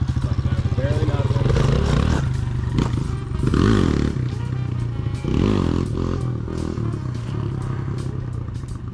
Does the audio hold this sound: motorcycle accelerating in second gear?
yes